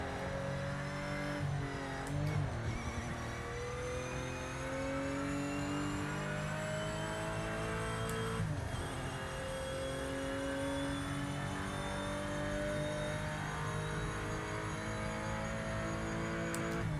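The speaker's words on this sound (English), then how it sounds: "That classic 911 feel and sound." A classic Porsche 911 flat-six howls steadily through a lap in a racing game, its pitch sweeping up and down through gear changes, loud and continuous with no talking.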